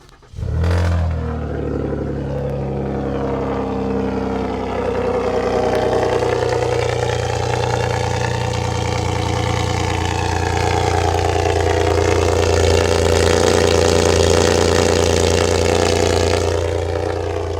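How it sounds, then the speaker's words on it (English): A straight-piped, catless Ford Taurus Limited engine cold-starts with a sharp crank and catch, then settles into a loud, steady, rumbling idle held close by for the rest of the stretch. "So, let's give it a cold start."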